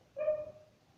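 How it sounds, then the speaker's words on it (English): A single short, tonal dog bark or yelp, somewhat distant and moderately quiet, alone against a faint background. "if you ever hear a barking dog in the background"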